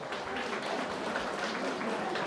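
Guests at a Kurdish-Turkish wedding celebration applaud steadily, a dense continuous wash of clapping filling the whole moment with voices mixed in.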